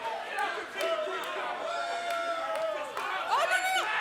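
A wrestling crowd at the Race Wrestling Arena chatters and yells steadily, drowning out Skylar Sparks, with a swell of louder shouts near the end.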